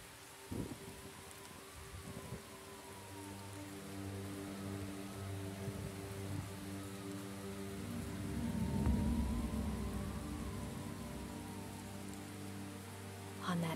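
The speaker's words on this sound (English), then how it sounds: "On that day, the rain didn't let up." Steady rain falls in an anime scene from a video game adaptation, a soft continuous hiss with a low rumbling swell partway through, faint and even with no talking.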